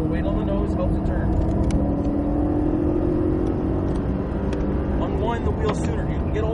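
A Cadillac accelerating on a race track, with a steady engine drone and whir under a voice giving driving instructions, holding a constant loudness throughout.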